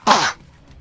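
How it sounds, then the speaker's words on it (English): One sharp, loud burst of a human sneeze, a short breathy explosion lasting about a quarter second before dropping to quiet. "I'm gonna sneeze."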